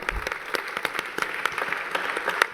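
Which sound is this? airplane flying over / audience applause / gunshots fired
audience applause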